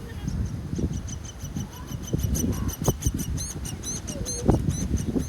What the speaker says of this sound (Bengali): চারপাশে হচ্ছে পাখিরা ডাকতেছে